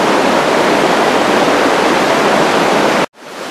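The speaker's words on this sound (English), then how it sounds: "Arrival at a big river," A big river's rushing water roars loud and steady, a dense continuous wash heard up close. It cuts out abruptly near the end and resumes more quietly.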